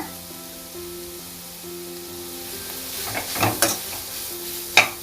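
Capsicum and vegetables for paneer schezwan noodles sauté over a full flame, a soft hiss under a steady hum, then clattering spatula strokes and a bright scrape against the pan.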